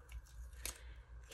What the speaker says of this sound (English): it is not the end of the world to cut them with a pair of scissors